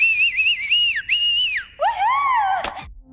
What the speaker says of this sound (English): she jumps up to cheer and whistle louder than anyone else